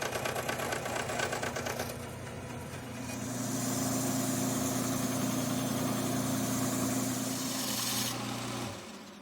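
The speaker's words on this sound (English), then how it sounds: "now I'm going to cut it out on the bandsaw" A bandsaw cuts a wooden shuriken fidget spinner from cherry wood, just outside the line. A steady, loud motor hum swells in after about two seconds, holds evenly for roughly six seconds, then drops away.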